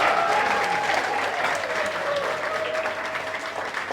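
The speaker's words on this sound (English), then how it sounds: "again, a round of applause and mabruk to Mariana." Audience applause fills a bakery grand opening celebration, steady and dense clapping throughout with a faint crowd murmur and a brief cheer or whistle.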